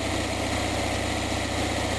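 An Onan generator engine idles steadily up close, a continuous low, even rumble with a fast, regular firing pulse and no pauses.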